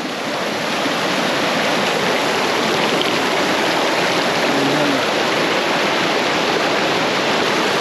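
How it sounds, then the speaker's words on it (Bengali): Water tumbles from a height in a small waterfall beside a canal in the Jharkhand countryside, giving a loud, continuous broadband rush that stays steady and close throughout, with no voices. "জলটা উপর থেকে নিচে পড়ে যাচ্ছে, আর দেখুন ঝর্ণার মতো সৃষ্টি হচ্ছে"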